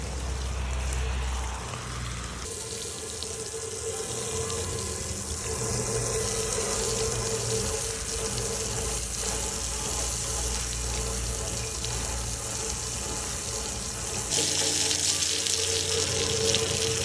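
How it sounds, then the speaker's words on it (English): Tap water from a hose runs steadily over a hydro-dipped item while it is rinsed, a continuous close splashing gush that shifts in tone as the stream moves across the surface. "I'm just gonna use tap water right from the hose. I'm gonna rinse this thing off thoroughly"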